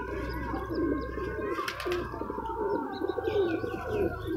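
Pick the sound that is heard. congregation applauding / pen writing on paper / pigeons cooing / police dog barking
pigeons cooing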